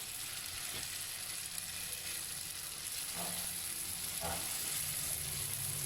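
Potato-and-egg stuffed samosas frying in hot oil in a pan make a continuous dense crackling sizzle with a few faint scrapes, steady and close, without talk.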